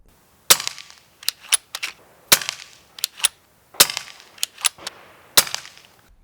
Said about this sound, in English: let me just shoot a third group with these crossbins just to see if anything crazy is going on